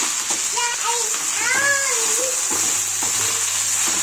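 Fenugreek leaves being sautéed in a pan, a soft sizzle and light stirring sounds running underneath, while someone talks and a voice chimes in throughout.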